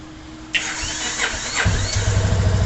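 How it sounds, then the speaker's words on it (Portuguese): A 2020 Yamaha Fazer 250 motorcycle, just fitted with a new starter brush, cranks on its starter motor with a whirring squeal, then the engine catches and settles into a loud, close, steady idle. "Vou estar acionando aqui agora o motor de partida."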